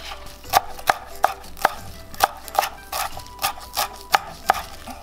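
A knife chops cilantro and green onion on a cutting board in about a dozen crisp, evenly paced strikes, close and clear with no talking.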